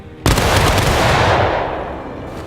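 A squad of soldiers fires a musket volley in the War of Rights Civil War game, one sudden loud crash of massed shots followed by a long rumbling echo that slowly fades.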